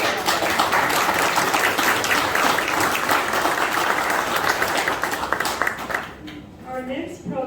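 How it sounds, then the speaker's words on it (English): Audience applause at a farm equipment dealer's community program, a steady, full round of clapping that fades out near the end, where a voice briefly speaks. "let's give them all a round of applause again"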